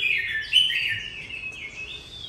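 A mi songbird (hwamei) sings outside its cage in a bright, warbling run of chirps and trills. The song is close and clear with no talk over it.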